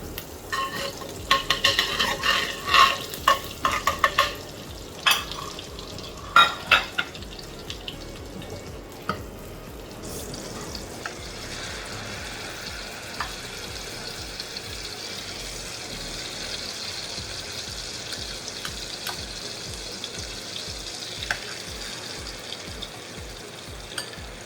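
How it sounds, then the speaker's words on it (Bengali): Butter goes into a hot frying pan and sizzles, a steady hiss with clattering stirs early on that settle into an even, continuous fry. "এখন ফ্রাই প্যানে আমি 2 চামচ বাটার দিব।"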